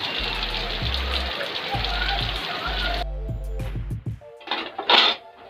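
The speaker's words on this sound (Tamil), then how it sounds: "இங்கே பாரு, சரியான மழை ஊற்றும்" Heavy evening rain pours in a dense, hissing wash for about three seconds, mixed with low thumps, then cuts away to quieter scattered sounds and brief noisy bursts.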